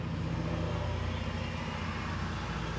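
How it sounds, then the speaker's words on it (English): Cars passing on a rural country road, a steady low rumble of traffic that stays fairly loud and continuous throughout, with no voices. "you hear the cars going by"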